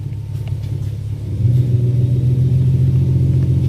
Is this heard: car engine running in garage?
yes